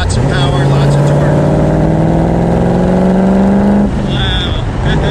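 A 1965 Ford Cobra Superformance muscle car roars loudly and steadily on a test drive, its engine note climbing under acceleration before briefly dropping and resuming, with a voice talking over it.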